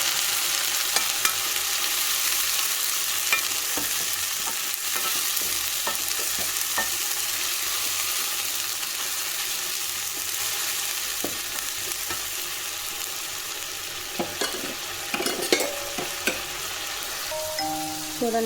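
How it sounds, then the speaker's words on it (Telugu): Tomato puree frying in hot oil with onions for an Andhra-style chicken curry: a loud, steady hiss of sizzling throughout, with sporadic spatula scrapes and a busier cluster of stirring clinks near the end. "చూడండి టమాటా అనేది వేగుతుంది కదా."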